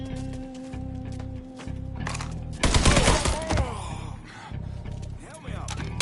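Enemy gunfire in the video game Mafia III bursts out in the middle, loud and rattling, over a steady low engine-like drone, with a second shorter volley a moment later.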